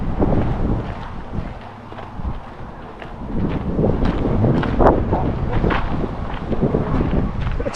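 Gusts of wind buffet the microphone at a campground, a steady rushing noise rising and falling in strength with faint rustling beneath.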